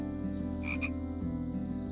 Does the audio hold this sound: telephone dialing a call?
no